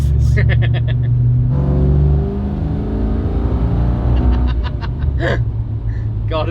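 An original Holden Kingswood V8 with a T5 manual gearbox conversion rumbles and revs loudly from inside the car while driving, with the engine note rising and falling as people talk over it.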